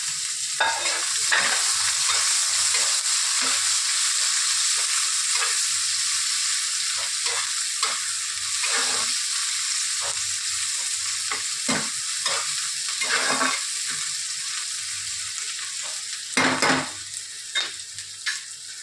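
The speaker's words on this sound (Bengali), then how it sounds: "এবারে আমি পেঁয়াজ কুচিগুলো দিলাম।" Chopped onions frying in a pan for Bengali doi katla, a constant hissing sizzle with frequent spatula scrapes and stirring knocks throughout.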